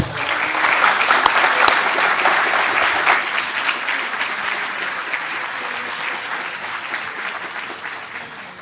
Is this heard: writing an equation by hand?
no